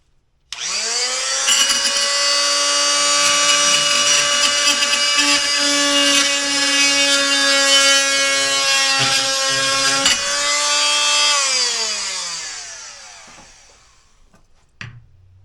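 A power cutting tool slices through a plastic 3/4 inch sprinkler riser, a loud steady whine holding for about ten seconds, then winding down and fading, with a short click at the end.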